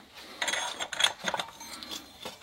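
A metal nut on a bolt being tightened firmly with a wrench while fitting a metal pulley for a 3800, giving a series of short ratcheting metallic clicks and scrapes, close and moderately loud.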